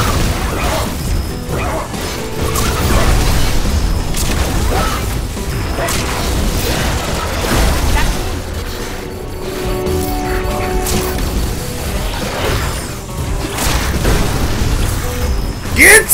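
Charged shots from a weapon in the video game ReCore, a steady stream of loud crashing booms and thwacks packed together over dense game action, with mechanical clatter throughout.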